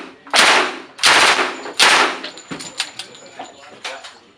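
An Umarex Legends M1A1 Tommy gun replica fires three loud, sharp bursts close by, each followed by rattling mechanical clatter and a few lighter clicks as the action settles.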